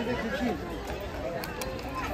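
Dense crowd of visitors at the tiger enclosure of Mumbai Zoo (Rani Baug), a steady babble of many voices with scattered footsteps, continuous and moderately near.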